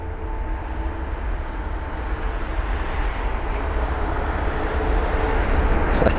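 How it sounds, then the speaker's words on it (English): Aer Lingus Airbus A320 at Heathrow, heard at a distance as a steady, broad jet-engine roar that swells gradually louder over several seconds. "And there goes the Aer Lingus A320"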